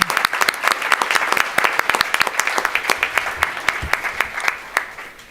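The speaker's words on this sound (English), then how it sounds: "I'd like to give them a round of applause." An audience at a medical honor society induction ceremony in Chicago applauds students and faculty, with moderately sized, distinct, irregular clapping that stays steady and fairly close.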